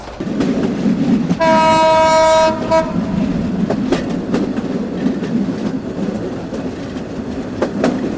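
The Korotoa Express passenger train runs between Mahimaganj and Bonarpara, its wheels rumbling and clacking steadily up close, with one long, loud horn blast early on and faint rhythmic rail clicks throughout.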